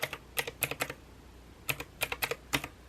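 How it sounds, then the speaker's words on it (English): Calculator keys clicking during a budget tally, in two quick bursts of sharp taps separated by a short pause, close and fairly quiet with no talking. "the clickety-clack of my calculator"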